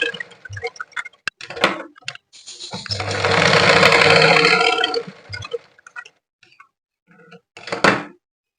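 A sewing machine stitches blouse fabric in one sustained whirring burst of a couple of seconds, framed by scattered clicks and handling taps before and after, with no talk.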